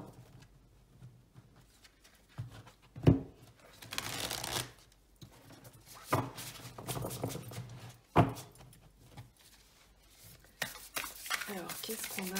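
Marseille tarot cards are shuffled and dealt onto a table in quiet bursts of riffling and soft slaps, with pauses between them and faint speech in the background.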